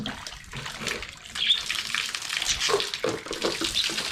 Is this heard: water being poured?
yes